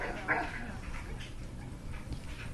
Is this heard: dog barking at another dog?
yes